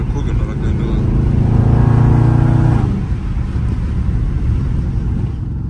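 Dodge Scat Pack car engine on a city drive, a loud steady rumble with a rising rev around the middle that drops off, then a lower cruising drone with wind and road noise.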